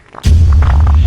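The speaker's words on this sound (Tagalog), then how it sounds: "Ang baho Mare. Umutot ka ba?" A single loud, low, buzzing fart noise starts abruptly and sustains for under a second.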